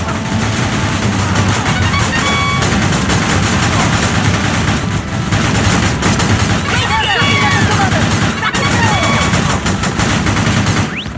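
Rapid Tundra gunfire in the video game Battalion Wars, dense bursts of shots and machine-gun rattle layered with booms and game effects, loud and continuous with voices speaking over the battle.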